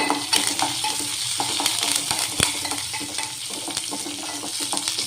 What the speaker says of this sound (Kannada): ಹೆಚ್ಚಿಟ್ಕೊಂಡಿರೋಂಥ ಮೆಣಸಿನ್ಕಾಯಿ ಫ್ರೈ ಮಾಡಿಕೊಡ್ರಿ ಆಮೇಲೆ ಸ್ವಲ್ಪ ಕರಿಬೇವು